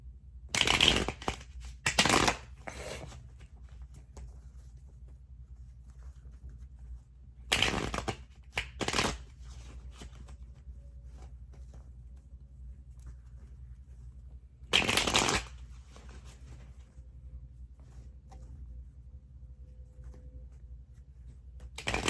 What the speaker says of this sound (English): I had to shuffle these cards so many times